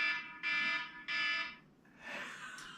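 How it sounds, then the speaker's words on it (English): A phone alarm ringing for an incoming call from a son, with two loud repeated electronic beeping tones followed by a shifting warbling tone, all at close range with no talk. "That's the only alarm that ever goes off"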